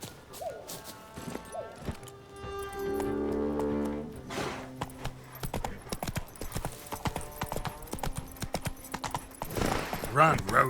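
Roach, the horse in The Witcher 3, gallops with rhythmic clip-clop hoofbeats that grow busier and louder toward the end. Game music and spoken dialogue play alongside the hooves.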